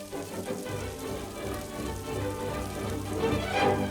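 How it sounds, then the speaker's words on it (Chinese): Heavy rain pours down outside a small flower shop, a steady, dense hiss that fills the scene and swells slightly louder toward the end, with no voices over it. "一个人管店就下起大雨"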